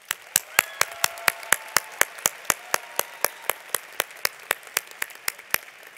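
Applause at a 2022 high school graduation ceremony comes through as a quick, even run of sharp claps that sound close and distinct over a quiet background.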